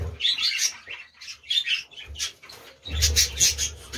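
Pet parrots in a home cage chirp and squawk in short bursts, close and fairly loud, with brief quiet gaps between calls.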